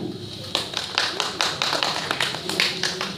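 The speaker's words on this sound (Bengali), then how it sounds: "আপনি একটু করতালি দিন" An audience at a ceremony gives brief applause, a steady patter of many hands clapping in a room, moderately loud and lasting a few seconds.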